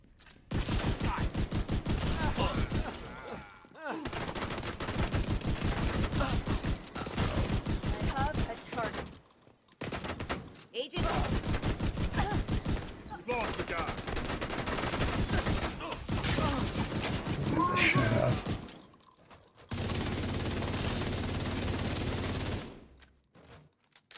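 Rapid bursts of gunfire in The Division 2, loud clustered volleys broken by short silent gaps, with game sounds layered between the shooting.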